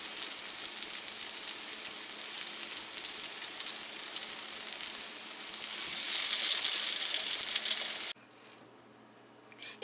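Zucchini fritters frying in oil over low heat, a steady close crackling sizzle that swells louder before cutting to near quiet.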